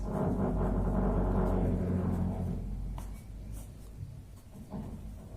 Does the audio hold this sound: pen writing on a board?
yes